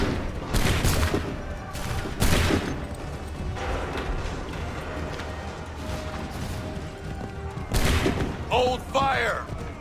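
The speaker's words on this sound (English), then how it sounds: "Open fire!" Musket volleys in Assassin's Creed 3: several heavy, booming rounds of massed gunfire at loose intervals, each a loud crashing burst with a rolling tail, while shouted voices carry over the battle din.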